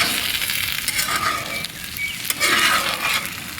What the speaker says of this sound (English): Alright, our taters and onions have been cooking for about 10 minutes. And we're going to stir them.